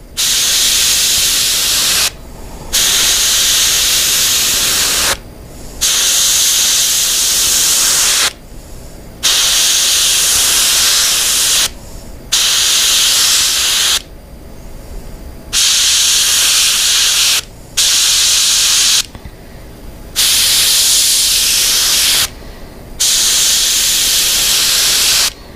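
An airbrush sprays paint with the mesh on to lay down a red discus pattern: about eight close bursts of sharp hiss, each a few seconds long, separated by brief pauses.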